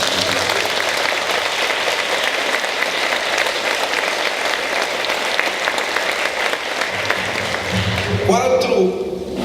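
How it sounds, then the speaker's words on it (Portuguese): Sustained applause from a church congregation, dense and even, fills the space before easing off near the end as a voice resumes. "Dá um aplauso aí para Jesus."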